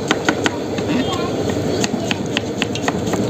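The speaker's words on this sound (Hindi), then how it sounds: "ये थोड़ा सा अभी प्याज वगैरह कट कर रहे हैं" Onions chopped on a board at a street food stall, quick repeated knife strikes in an uneven rhythm over a busy, noisy background.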